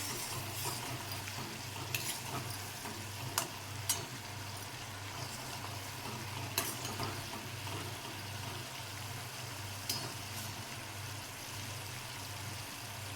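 Sugar syrup being stirred continuously in a pan on the stove for sweet puris, a faint steady low simmer with soft scraping and a few light clinks of the spoon.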